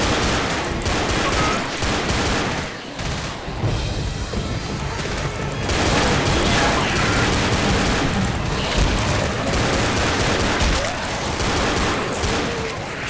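Dense gunfire in a Left 4 Dead zombie fight, repeated booming shotgun blasts mixed with rapid firing and crashes, loud and nearly continuous throughout.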